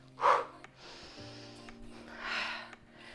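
Heavy breathing during a glute workout circuit: a sharp snort-like inhale near the start, then a long exhale and another forceful breath, close and fairly quiet.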